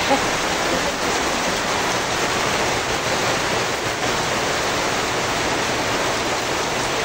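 Heavy rain pours down steadily, a dense, constant roar of water that stays loud and even throughout with no breaks.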